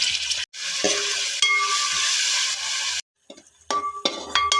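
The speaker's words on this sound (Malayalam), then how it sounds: "അരിഞ്ഞ് വെച്ചിരിക്കുന്ന സവാള പിന്നെ വെളുത്തുള്ളി എല്ലാം കൂടെ ഇട്ട് നമുക്കൊന്ന് വഴറ്റിയെടുക്കാം" Chopped onion, garlic and curry leaves sautéing in coconut oil for Fayoumi chicken curry, a loud, close, continuous sizzle broken by brief pauses and scraping stir strokes, with clinks of a utensil near the end.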